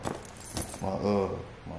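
Keys jangle together in a short metallic rattle, close and moderately loud, mixed with someone talking casually.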